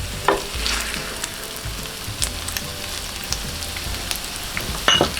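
Pork belly kimchi fried rice sizzles steadily in a hot pan, a close, loud crackling fry broken by occasional scraping stirs of the spatula, with no talking.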